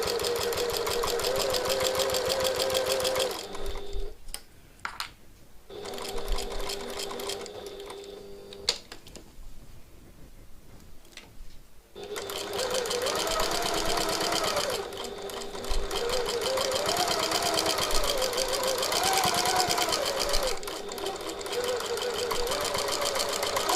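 A sewing machine runs in long bursts top stitching a tote bag, its rapid needle chatter stopping briefly twice before resuming, with faint talk in the pauses.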